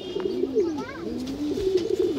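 A pair of black-necked old-line pigeons coos in rolling, throaty phrases with rising and falling pitch, close and clear, alone without talk, a few soft knocks between calls.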